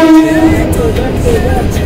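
Train at Mohanganj railway station, loud and close, with rumbling carriages and a sustained horn-like tone, faint voices in the background.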